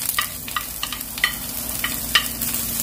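Green onion and garlic frying in cooking oil in a frying pan, a close, steady sizzle with rhythmic spatula scrapes and light taps every half second or so.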